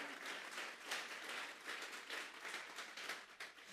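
A church congregation claps together in steady applause, a dense, continuous patter of many hands at moderate loudness with small swells, with no voices over it.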